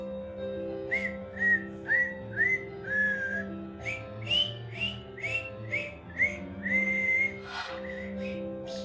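A clear whistled Twinkle Twinkle Little Star melody in short rising and falling phrases, about a dozen notes, over a soft steady hum in the background.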